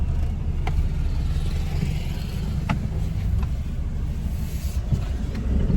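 Steady low engine rumble from a car idling or cruising close by, continuous throughout with a few faint clicks and no talk.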